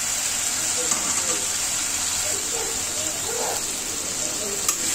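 Potatoes and eggplant fry in spice paste for a rohu fish curry, giving a steady, close hiss and sizzle with small crackles throughout.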